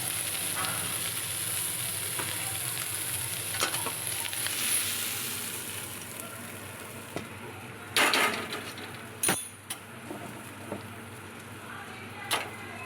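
Prawns frying in a pan of hot oil, a steady low sizzle running throughout, with a few sharp clanks and scrapes of utensils toward the end and faint background talk.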